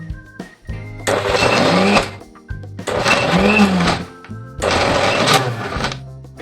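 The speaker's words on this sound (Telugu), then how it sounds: "టమాటా పచ్చడి మొత్తం దీంట్లో వేసుకొని మిక్సీ పట్టుకున్నాం" A kitchen mixer grinder blends tomato chutney in three loud bursts of whirring motor noise separated by short pauses, heard close with no talk.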